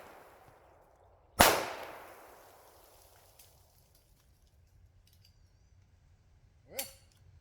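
Two gunshots from a Tisas 1911 pistol fired at a target 10 yards away, each a sharp crack with a short decay, about five seconds apart, the second quieter, in an otherwise quiet outdoor setting.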